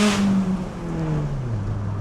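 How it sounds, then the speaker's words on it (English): A 2000 Honda Civic EK9 Type R's engine gives a quick rev, a brief rise then a falling, fading tone as the revs drop back, heard close with no talk. "So let's give her a quick rev."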